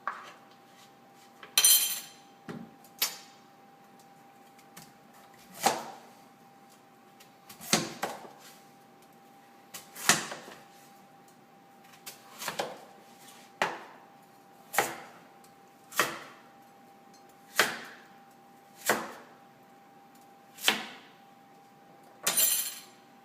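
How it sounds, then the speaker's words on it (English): Knife chopping butternut squash into quarter-inch squares on a board, about a dozen sharp, separate thunks at an uneven pace, close and clear, with no talking. "Once you have the butternut squash cut"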